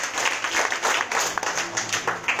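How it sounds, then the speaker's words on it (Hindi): Crowd applause at a Srimad Bhagwat katha in Kota, Rajasthan: brisk, uneven clapping from a gathered audience, fairly close, with scattered sharp claps standing out and a faint tonal sound underneath. "आप लोगों के लिए भी जोर से ताली बजाओ"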